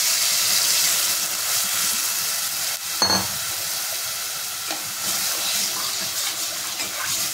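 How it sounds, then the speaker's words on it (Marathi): A gram flour and yogurt mixture hits hot oil seasoned with asafoetida in a pan for kadhi, a steady close sizzle with one sharp clatter as it goes in and light stirring, no talking. "इथे आपण बेसन आणि दही मिक्स करून घेतलेले आहे ते टाकून घ्यायचे।"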